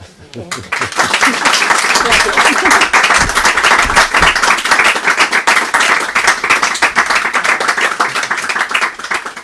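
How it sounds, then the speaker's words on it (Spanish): An audience applauds an author at a Spanish book presentation about Shiva's trident. The clapping is loud and dense, building after a brief spoken start and holding strong for several seconds, with voices beneath it. "yo creo que se merece un aplauso, ¿no?"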